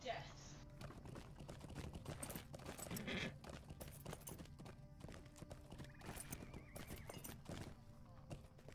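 A horse in the fantasy video game Lord of the Rings Online clip-clops and whinnies, the hoofbeats quick and rhythmic under faint talking, with a few sharp clatters mixed in.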